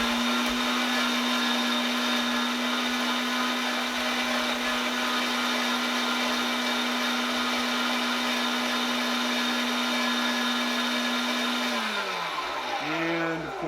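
A meat grinder grinds whole quail into dog food, a loud steady motor whine running without pause for about twelve seconds before winding down at the end.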